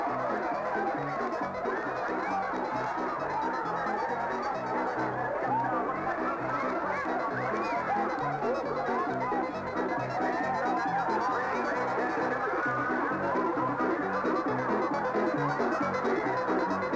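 Turkeys gobble and honk continuously in a crowded flock during a turkey race at a 1982 festival, loud, dense overlapping calls with faint talk underneath.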